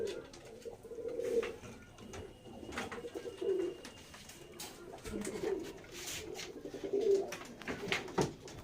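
Pigeons coo in a loft, soft rounded coos rising and falling in repeated phrases at moderate distance over a quiet background.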